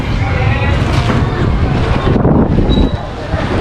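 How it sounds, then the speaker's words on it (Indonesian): Strong wind buffeting the microphone at an outdoor morning vegetable market in Kutacane, Aceh Tenggara, a loud continuous roaring rumble with faint background voices. "Wah angin kencang kali ini guys."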